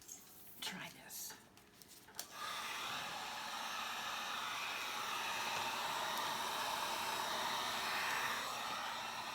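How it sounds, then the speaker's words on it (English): Heat gun blowing steady air across wet acrylic paint in a flip-cup pour, a continuous hissing roar that holds for several seconds after a few brief noises at the start. "I took my heat gun. Try this."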